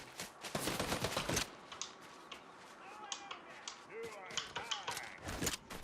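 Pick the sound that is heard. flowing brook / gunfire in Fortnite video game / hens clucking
gunfire in Fortnite video game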